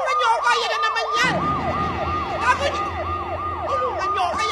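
Wailing sirens rise and fall in a steady repeating sweep, loud and continuous over traffic rumble, with a brief lower tone at the start.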